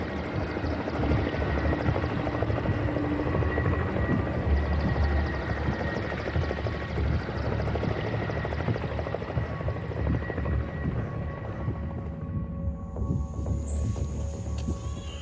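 Helicopter engines during an anti-drug crop-spraying operation in Colombia, alongside a fumigation plane, hold a loud, steady, continuous rotor and engine drone throughout, thinning slightly near the end.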